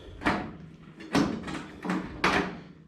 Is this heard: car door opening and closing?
yes